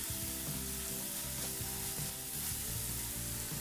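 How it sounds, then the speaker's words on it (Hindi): Dill leaves stir-frying on high flame for a potato dish, a dense, loud, continuous sizzle with repeated scraping strokes of a spatula keeping a rough, steady rhythm. "सोया को हम हाई फ्लेम पे 1 मिनट तक इस तरीके से भूनेंगे"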